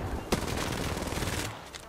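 Rapid gunfire crackles through an Apex Legends firefight, a dense burst of overlapping shots lasting nearly two seconds with a sharp crack near the start.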